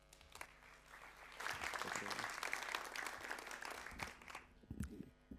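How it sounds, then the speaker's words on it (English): Festival keynote audience applauds a speaker; clapping swells after a quiet start, holds steady for a few seconds, then thins out, with some low thumps near the end. "Big round of applause for Josèfa."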